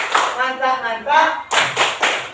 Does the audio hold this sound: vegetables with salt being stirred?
no